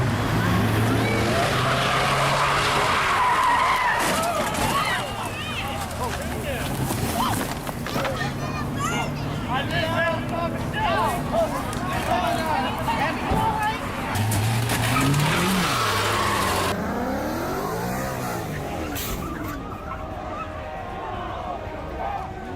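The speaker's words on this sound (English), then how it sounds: "we see a car losing control and crashing directly into a laundromat" A car's tires squeal and skid as it loses control before crashing into a laundromat, with engine noise and busy background sound and a voice talking over it.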